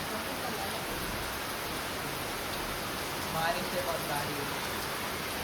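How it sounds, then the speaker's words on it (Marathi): Steady rain hisses evenly throughout in the Konkan, a dense wash of drops with a faint voice briefly murmuring under it. "आता पाऊस आला बघू शकत आहो"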